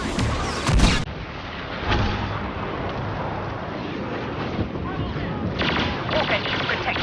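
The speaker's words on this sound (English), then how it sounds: "Rebel bombers are making their attack run." Rebel bombers make an attack run on the snowy Hoth outpost in the Star Wars Battlefront game, with a steady roar of engines and distant booming explosions rumbling continuously, a heavier blast near the start and a voice speaking briefly.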